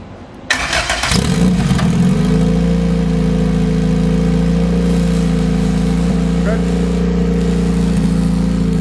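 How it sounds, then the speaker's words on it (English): Honda K24 all-motor car engine cranks and fires, then settles into a loud, steady rumbling idle that holds close and constant, with brief voices at the start. "let me give it another start"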